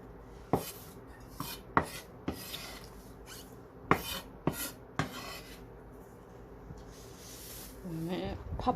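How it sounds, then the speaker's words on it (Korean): A knife chops garlic chives on a cutting board in a home kitchen, giving several sharp, close knocks spaced irregularly, with faint rustling between strikes and a brief voice near the end. "부추도 너무 길게 말고 약간 묵 사이즈로 썰어 주시면 되겠네요"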